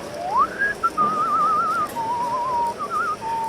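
A person whistles at a No Limit Hold'em poker table during a World Series of Poker event, a clear, close, wavering melodic whistle with short breaks, alone over a low murmur of room noise.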